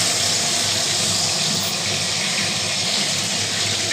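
Chopped garlic sizzling in hot oil in a pan, a steady loud broadband hiss that holds evenly throughout without pause.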